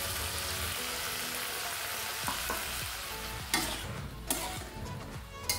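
Ground cumin paste, spices, green chillies, fried potato and long beans sizzle in a pan for a fish curry and are stirred with scraping strokes. A few sharper clatters from the utensil stand out near the end.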